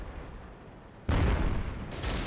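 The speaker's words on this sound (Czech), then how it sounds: "tady pro nás střílí Artina" Artillery fires in the World of Tanks video game: a sudden loud, broad boom cuts in after a second of quieter rumble and holds as a rushing blast, followed by a second surge.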